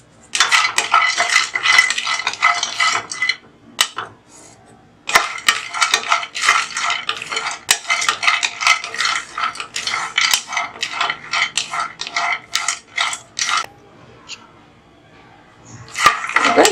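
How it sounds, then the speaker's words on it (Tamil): Cashews dry roasting in a pan: rapid, continuous clattering and scraping of a metal spoon stirring nuts against the pan. The stirring is loud and close, breaks off briefly twice, and faint talk sits in the background. "இப்போ முந்திரியும் வந்து சும்மா ஒரு கொஞ்சம் சூடு காட்டிக்கலாம்"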